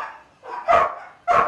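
Spaniels in a kennel let out two short, sharp barks about half a second apart, close and clear with little else around them.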